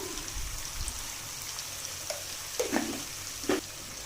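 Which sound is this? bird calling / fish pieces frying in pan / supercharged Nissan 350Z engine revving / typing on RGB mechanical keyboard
fish pieces frying in pan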